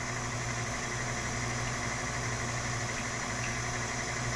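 Electric meat grinder running steadily as it works meat with jalapenos, peaches, onions and garlic into its gear, a loud, even motor hum and vibration, close and unbroken.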